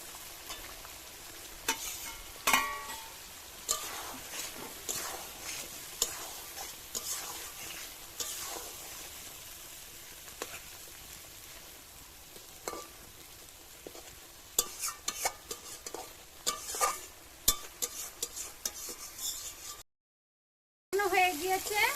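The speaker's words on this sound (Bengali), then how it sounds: "এবার মাছটা দিয়ে কষিয়ে নেব।" Prawns stir-fried in a pan for Bengali chingri malai curry, a steady low sizzle running throughout with repeated sharp scrapes and clicks of a spatula against the pan, briefly cut off near the end.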